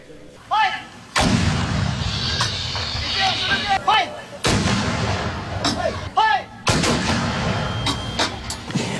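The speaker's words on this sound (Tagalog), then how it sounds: "inilunsad ng military ang isang artillery at airstrike sa mga barangay ng Lusay" Military artillery fire during an assault on rural villages in Maguindanao: several loud, sharp booms strike at irregular intervals over a continuous rumbling backdrop, with voices talking between the blasts.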